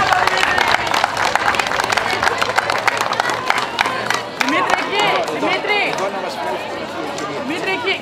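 Applause and cheering for a winner at a disability athletics awards ceremony, mixed with crowd chatter and a loud announcer's voice over the clapping throughout.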